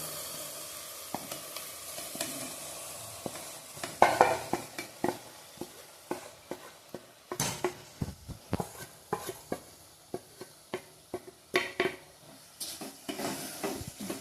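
Rhythmic scraping and tapping of a spoon stirring boiled moong dal in a frying pan over a soft sizzle, strokes repeating every second or so.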